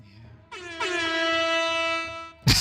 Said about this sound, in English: Toll the dead air horn.